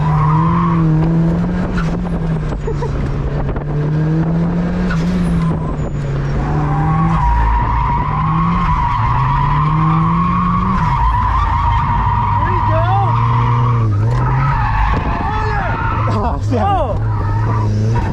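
A boosted Mazda Miata drifts around a track, its tires skidding and squealing continuously under a loud, revving engine, while people in the car whoop and talk throughout.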